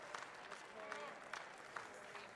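Faint audience applause at a military powerlifting competition, a steady wash of light clapping heard from a distance with no voices over it.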